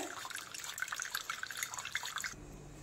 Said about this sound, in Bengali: আমি ভালো করে ছেঁকে নিই এটা পুরোটা